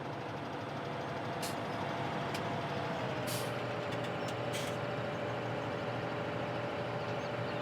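Heavy vehicle engine drone from a front loader working in the farming game Farming Simulator 17, loading solid manure into a spreader; a steady, loud rumbling drive with brief hissy air-brake-like bursts, and no talk.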